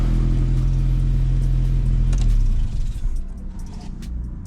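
A Volkswagen Golf Mk2 engine runs just after an oil change, a steady close idle hum that settles into a lower, rougher rumble and fades slightly as it is shut down.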